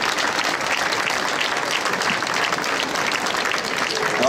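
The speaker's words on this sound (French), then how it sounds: "applaudissez-le" An audience at a Saint Fiacre 50th-anniversary celebration breaks into steady applause, a thick, even wash of many hands clapping at close range with no letup.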